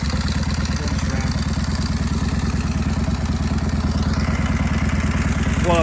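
A 1929 Indian 101 Scout motorcycle engine runs on a dyno with a loud, close, steady rhythmic thumping and mechanical clatter, holding an even idle throughout.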